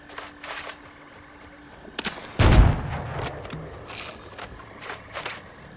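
Gunshots fired at a plague crocodile in the video game Windrose, a sharp loud blast with a rumbling tail near the middle, set among scattered lighter clicks and footstep-like taps in a quiet swamp ambience.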